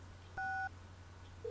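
A single DTMF keypad tone dialing a phone number in the point-and-click adventure game Thimbleweed Park, heard on the Phone'tron at the KSCUM radio station, a short clear beep alone over a low hum, with another tone starting at the end.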